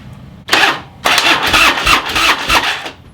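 A stolen Harley Street Glide motorcycle's starter cranks in a brief burst, pauses, then cranks again for about two seconds in loud, close, pulsing bursts without the engine catching.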